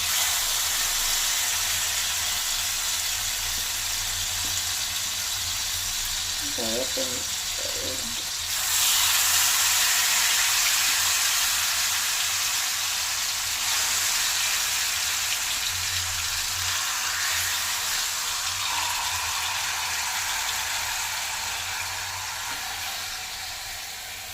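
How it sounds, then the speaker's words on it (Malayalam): Mutton pieces for mandi shallow frying in hot oil, a steady hiss and sizzle that grows louder partway through, close up with a brief faint voice early on. "ഇത് ജസ്റ്റ് ഒന്ന് ഷാലോ ഫ്രൈ ആയാൽ മതി കേട്ടോ."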